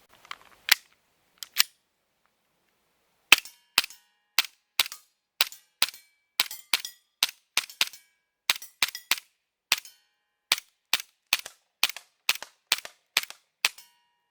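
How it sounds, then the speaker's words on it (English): A Cybergun VFC FN FNX .45 airsoft pistol fires about twenty sharp, snappy shots at steel plates, some in quick pairs and others spaced out, each crack followed by a faint ring, with no talking. "we're going to be shooting at our plates behind us"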